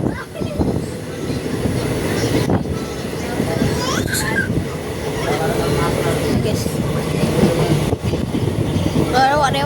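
Passenger train rolling steadily on rails near Thalassery, heard from inside as a continuous rumbling, rattling drone with occasional sharp clanks and a faint high squeal, under scattered voices.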